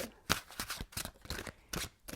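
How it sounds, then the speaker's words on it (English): Tarot cards being shuffled close up in a quiet room, a run of crisp riffling bursts and soft slaps repeating every half second or so, with no talk. "One more shuffle."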